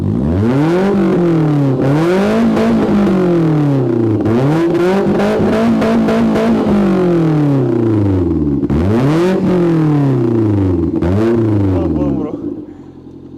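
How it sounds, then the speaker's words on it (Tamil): A loud modified Maruti Zen engine, 1.8 L, revs repeatedly through an open exhaust valve, rising and falling in roaring sweeps before dropping back to idle at the end. "நம்ம எக்ஸாஸ்ட் ஓபன் பண்ணா நமக்கு அந்த ஸ்போர்ட்ஸ் லுக் வந்துரும்"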